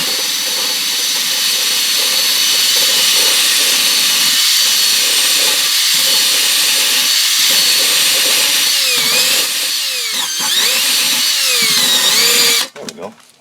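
A power tool buffs a golf cart tire, a loud, continuous high whine that holds steady, dips and surges briefly as pressure changes, then cuts off near the end.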